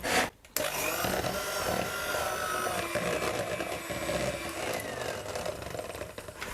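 An electric mixer whips butter for cream in a continuous, fairly loud whirring drone that runs almost the whole way through after a brief gap near the start.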